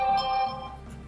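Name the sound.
mobile phone ringing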